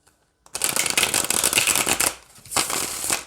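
White Numen tarot cards, a sacred animal deck, riffle-shuffled up close in two bursts of crisp, fluttering card slaps, the first long and steady, the second shorter after a brief pause.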